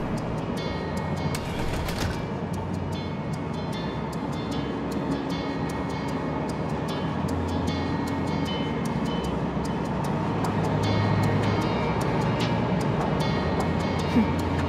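A train rumbles steadily along the rails inside a tunnel in Final Fantasy VII Remake, a constant low mechanical roar with faint rhythmic clicks that swells slightly toward the end.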